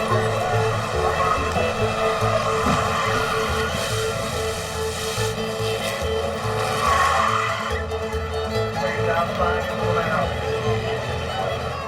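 Stock cars and crash cars race on a track, engines roaring loudly and continuously with tires skidding and squealing, a dense, sustained din throughout.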